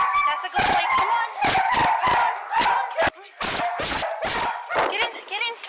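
Rescued dogs bark repeatedly in loud, sharp bursts close by while someone talks, coaxing them along.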